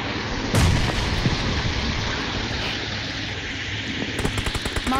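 A grenade-style bomb goes off in the battle royale game PUBG Mobile, a loud booming blast with a rumbling low tail, followed later by a run of sharp rapid gunfire pops near the end.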